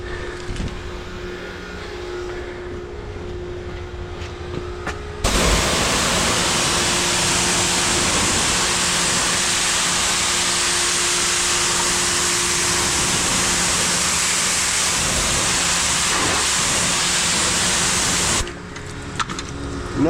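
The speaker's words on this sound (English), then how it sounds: "Let's hit it with the pressure washer" A pressure washer blasts water onto hardened concrete, a loud broadband hiss bursting in after a quieter idle hum, holding steady for about thirteen seconds, then dropping back to the motor's drone.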